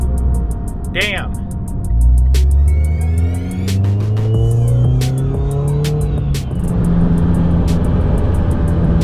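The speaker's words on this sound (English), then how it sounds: "It is insane how loud this turbo is now." A Mitsubishi Evo X with a loud turbo revs hard, and the engine's climbing drone carries a rising, whistling turbo spool that swells and falls, close and continuous.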